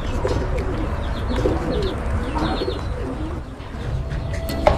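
Racing pigeons coo in low, throaty murmurs that overlap steadily close by, with a few brighter chirps over a constant background rumble and no speech.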